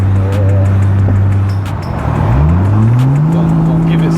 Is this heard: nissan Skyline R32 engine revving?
yes